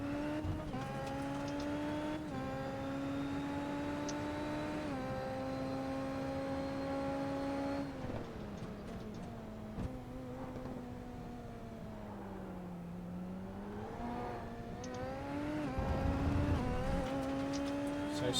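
A Super Formula race car's high-pitched engine screams around the Montreal circuit, revs climbing in long pulls, briefly dipping for a corner before rising again, loud and continuous, heard from onboard without any talking.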